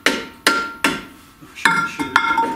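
A brake drum is fitted onto an MGB tube-type rear axle and tapped into place with a series of sharp metallic hammer knocks, irregular and close. Some blows ring briefly. There is no talking.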